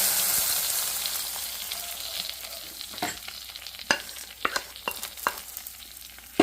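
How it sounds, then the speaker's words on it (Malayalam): Pepper rasam bubbles in a cooking pot with a steady sizzling hiss, broken by sharp clinks and taps of stirring that grow more frequent toward the end. "രസം തിളച്ചുകൊണ്ട് വരികയാണ്"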